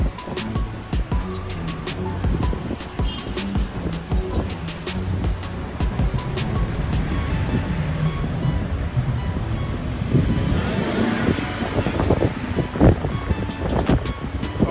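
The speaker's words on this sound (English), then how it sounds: "Nice breeze blowing through." Steady breeze blowing across the microphone in downtown Bridgetown, Barbados, a continuous broadband rush with gusty rumbling buffets, fairly loud and unbroken, with faint traffic beneath.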